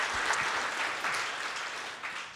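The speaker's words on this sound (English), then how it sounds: "can you please clap for yourself for showing up today?" Audience applause from a gathering, a dense wash of many hands clapping that stays steady and fairly loud for a couple of seconds with no voices over it.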